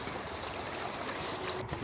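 Irrigation water rushing steadily out of an opened channel into a farm field, a close, continuous gushing flow with no voices.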